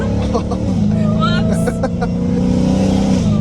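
A Dodge Hellcat Redeye engine rumbles loud and close from inside the car, holding a steady deep drone with a slight rise, while people talk over it.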